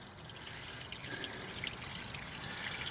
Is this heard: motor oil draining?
yes